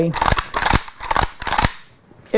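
Sharp, close gunshots from a Pioneer Arms AKM sport rifle, a Polish AK pattern, fire in an irregular string of about five loud cracks with short gaps between them.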